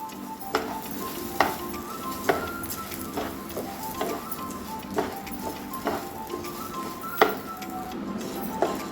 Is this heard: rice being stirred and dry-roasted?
yes